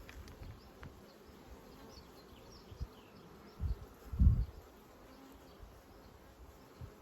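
Honeybees buzzing around opened hive frames: a faint, steady hum with a couple of low thumps from handling the frames partway through.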